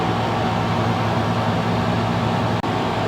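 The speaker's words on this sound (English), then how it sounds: "of course, I have the air conditioner running." Air conditioner running inside a 2020 Max XL BoonDock Edge camper trailer, a steady, fairly loud broadband hum and whoosh filling the whole stretch, with no talk over it.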